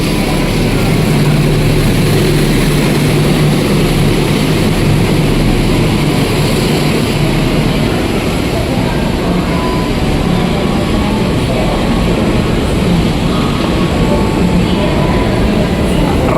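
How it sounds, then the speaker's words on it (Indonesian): A Serayu passenger train hauled by a CC 203 diesel locomotive pulls into Cikarang station while a container freight train passes on track 7, producing a loud, steady rumble of engines and rolling wheels throughout. "Ini kereta api Serayu masuk bersama CC 203. Ada kereta barang juga melintas jalur 7."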